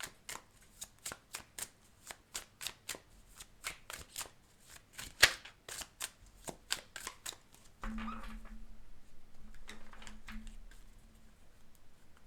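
Cards shuffled and pulled from a large deck of more than a hundred, a quick run of crisp riffling snaps and flicks up close, followed by softer rustling and sliding.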